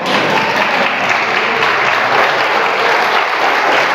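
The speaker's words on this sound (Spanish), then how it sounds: "Ese aplauso es para ustedes." Loud, steady applause from the participants of a radio announcing workshop, a thick continuous wash of many hands clapping together close by, holding at an even level throughout without talk.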